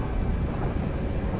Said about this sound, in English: Here's the storm.